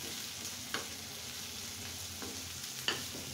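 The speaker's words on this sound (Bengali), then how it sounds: "আমি এখন এগুলাকে সুন্দর করে ভেজে নেব, পেঁয়াজ রসুনটা" Onion and garlic fry in a pan, a quiet steady sizzle with a few sharp spatula scrapes, close up and alone without voices.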